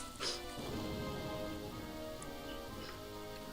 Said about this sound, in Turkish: Yağmurda konuşmayalım ıslanacaksın diyor.